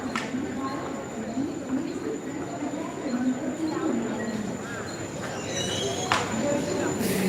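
A train rolls through a Mumbai-area suburban station, its steady rumble and clatter running continuously with occasional squealing wheel tones and a high whine, while people talk nearby over the noise.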